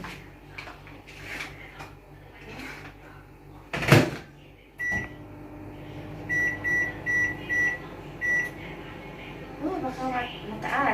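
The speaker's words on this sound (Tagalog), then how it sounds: "So, ilagay natin sa sa microwave." A microwave oven heating ready-to-eat food, with a door clunk, a series of short electronic beeps as the timer is set, and a low running hum, while a person talks nearby.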